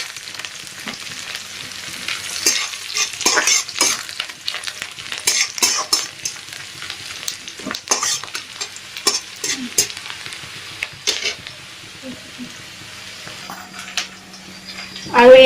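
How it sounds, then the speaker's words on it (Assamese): Two bay leaves and whole spices fry in hot oil, sizzling steadily with scattered crackles and the scrape of a stirring utensil against the pan, close and continuous. "এনেকৈ ভাজি আছোঁ"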